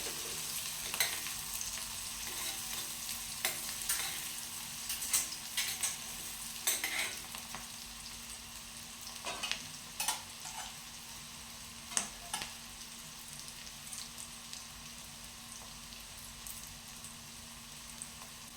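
Onions frying in a pan for a capsicum tomato curry, a soft, steady sizzle under a faint hum, broken by repeated clinks and scrapes of a spoon stirring at irregular intervals.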